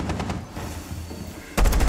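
ITA 12S secondary shotgun fired by Jackal in Rainbow Six Siege: a few sharp blasts at the start, a quieter stretch, then a loud burst of rapid shots near the end, with no voices.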